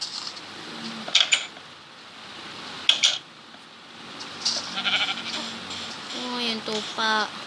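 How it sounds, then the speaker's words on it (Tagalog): Minecraft sheep giving short game bleats, several calls scattered among clinking sounds, with a louder run of bleats near the end; voices talk over it at times. "Oh, yung tupa."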